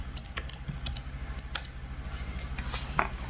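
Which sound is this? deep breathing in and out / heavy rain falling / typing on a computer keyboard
typing on a computer keyboard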